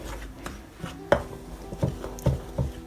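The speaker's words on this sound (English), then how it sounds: "I have brown sugar here, and I have some salt. I'm adding them all to this, and I'm going to mix this." Brown sugar and salt stirred together in a bowl for a cream cheese cinnamon roll dough: a series of soft, irregular scraping taps of a utensil against the bowl, close and moderately loud, with no talking.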